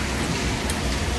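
Steady rain hisses and patters continuously, loud and close, with no other sounds standing out.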